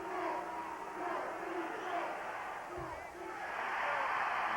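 Home crowd at an Indiana college basketball game against Penn State roaring after a missed free throw, a broad sustained arena cheer swelling and dipping under a play-by-play announcer's voice.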